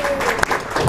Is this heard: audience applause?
yes